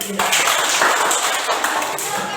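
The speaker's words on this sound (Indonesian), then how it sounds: "Tepuk tangan dulu." A class of students claps their hands together during a teaching practice lesson, a dense, steady patter of many hands filling the room, with voices mixed in.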